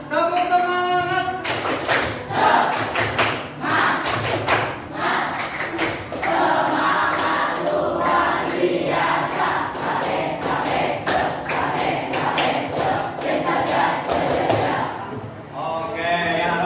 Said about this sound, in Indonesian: Mari kita beri tepuk semangat.